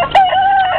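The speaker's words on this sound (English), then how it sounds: "A few more guinea fowl over there." Guinea fowl calling at an allotment, a single short harsh squawk, loud and close.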